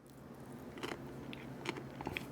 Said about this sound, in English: the big crunch from that cucumber